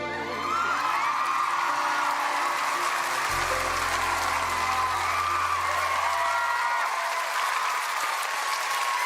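Loud, sustained audience applause with scattered whoops and cheers fills a large hall at a France Got Talent show, steady from start to finish.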